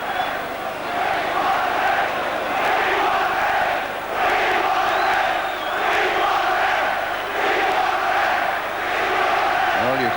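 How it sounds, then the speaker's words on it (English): Football crowd at a Liverpool v Arsenal FA Cup semi-final third replay, chanting in a swelling, rhythmic roar that rises and falls in waves across the stand, loud and sustained with no clear voice above it. "Well, you can probably hear the crowd. We want a ref."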